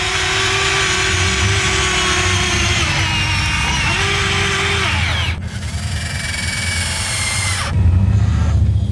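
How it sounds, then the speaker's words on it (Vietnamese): A small toy excavator motor whirs steadily with a high mechanical whine, shifting pitch partway through, then a brief louder burst near the end. "Bây giờ mình sẽ cho chiếc máy xúc này chạy đến."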